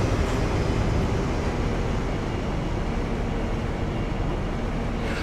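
An HST diesel train running steadily in Train Simulator Classic, a continuous broad engine and rail rumble heard alone at an even, loud level.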